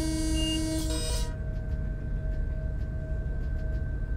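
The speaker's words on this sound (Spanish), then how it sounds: "Qué buena bocina que tiene." A train horn in a simulator game on the Retiro–Junín line sounds briefly with a loud, steady multi-tone chord, then cuts off, leaving a constant rumbling engine drone and a faint whine.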